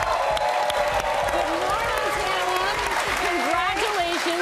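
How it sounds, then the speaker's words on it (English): Studio audience applause at a morning talk show, a steady wash of clapping and cheering with a few whoops, with a host and guest talking over it. "She's loving the applause."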